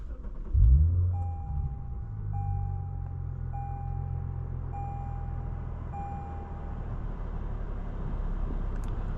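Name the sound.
driving a 2017 Lexus RC350 F Sport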